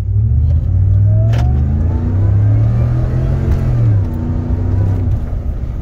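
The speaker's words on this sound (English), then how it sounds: "we're listening to the supercharger." A supercharged truck engine revs and accelerates up close, its droning tone rising and falling in a continuous loud roar.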